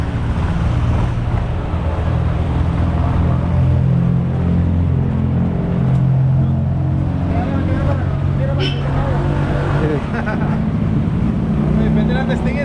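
A 2024 Yamaha NMAX scooter engine runs steadily at close range, a continuous low hum with harmonic bands throughout, while people talk nearby.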